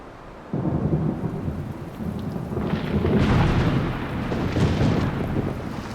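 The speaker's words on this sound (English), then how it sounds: "Right now, we're just waiting out the storm here." Thunderstorm with steady rain and deep rolling thunder, heard outdoors while waiting out a storm by a windy lake in northern Saskatchewan; loud continuous rumble and rain wash building and swelling throughout, no voices.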